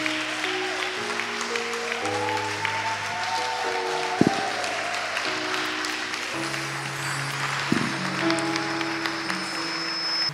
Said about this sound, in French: Can you stand up and give a clap offering?